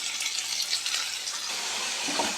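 Small shallots sizzling steadily in a pan for Nattu Kozhi Kulambu, a bright continuous hiss with faint stirring clinks near the end; no voices.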